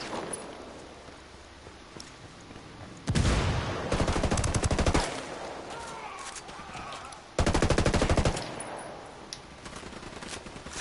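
Automatic gunfire in Ghost Recon Wildlands: two loud sustained bursts of rapid shots, each lasting a second or two, separated by quieter ambient stretches with some voice.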